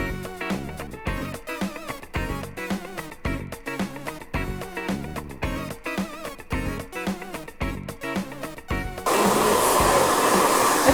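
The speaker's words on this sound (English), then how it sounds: "I'm gonna dry it up, and then we're gonna put the color on." A hair dryer blows on hair after a haircut in a salon, starting steady and loud about nine seconds in, preceded by a stretch of rhythmic music.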